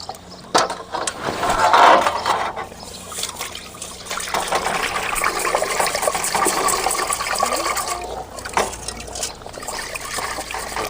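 Water splashes and trickles as vermicelli is rinsed and swished around in a bowl, with scraping, clinking handling noises throughout; no talking.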